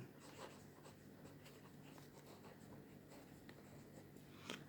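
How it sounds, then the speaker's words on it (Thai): Hand writing of numbers with a pen on paper, a steady faint scratching with small strokes throughout, quiet and close. "เดี๋ยวผมเขียนไว้ก่อนนะ"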